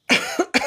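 Two sharp human coughs close together, loud and near, each a harsh burst with a short tail, with no other sound around them.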